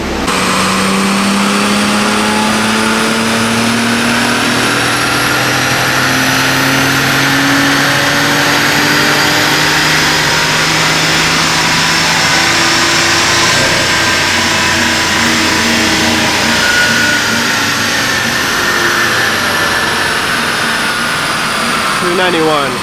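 A BMW M240i engine revs hard through a dyno pull, a loud, sustained rising drone with climbing pitch and whining harmonics that fills the whole run, close and steady with no pauses.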